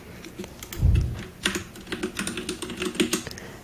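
Someone types a command on a computer keyboard in Discord, a close, quick run of clicking keystrokes following a single low thump.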